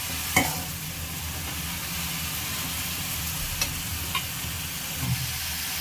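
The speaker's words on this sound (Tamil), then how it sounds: "வெங்காயத்தை பச்சை வாசனை போகிற அளவு வதக்கணும்." Onions are sautéed in a pan for a chicken gravy, giving a soft, even sizzle with a few scattered taps and scrapes from stirring.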